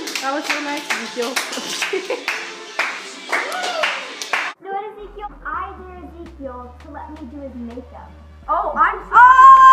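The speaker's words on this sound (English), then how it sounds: "give her a round of applause" A few people clap their hands close by, in quick bursts mixed with singing and chatter at home, followed by talk over a low hum.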